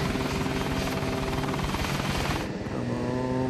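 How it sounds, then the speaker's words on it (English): Steady, loud drone of a DHL cargo plane approaching the runway to land over Baghdad, a continuous engine roar with a throbbing low rumble that holds throughout. "As the plane approaches the runway, the nose is pointing dangerously low and the left wing is dropping."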